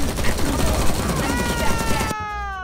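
Enemy automatic gunfire aimed at the player in the XIII Remake shooter, a dense, loud stream of shots that cuts off abruptly near the end, leaving a ringing tonal tail.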